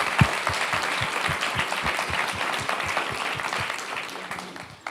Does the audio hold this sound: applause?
yes